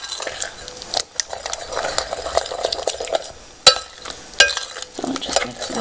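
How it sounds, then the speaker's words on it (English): Low carb muffin batter made with coconut oil being mixed in a bowl, irregular wet stirring and scraping with a few sharp utensil knocks against the bowl, close up. "So just mix a bit more."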